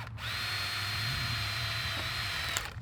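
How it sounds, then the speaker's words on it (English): A power drill runs steadily through garden fence netting, a loud continuous whine with a low motor hum that holds for nearly three seconds before a brief click and the motor winding down. "Caroline, we gotta make sure that the netting doesn't get in the drill bit"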